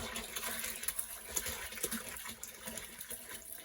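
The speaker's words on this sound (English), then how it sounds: "This is very hot water out of the tap. And just pour it down in here." Very hot tap water pours steadily into a 5-gallon bucket to dissolve homemade liquid laundry detergent, a continuous close splashing gush that runs for the whole stretch with no talk.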